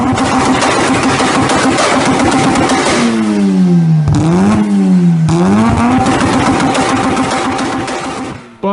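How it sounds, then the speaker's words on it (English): A car engine revs loudly and close by, its pitch climbing, dropping and climbing again in sweeping bursts, with a steady engine drone running throughout. "it is arguably the best sounding engine out there, period"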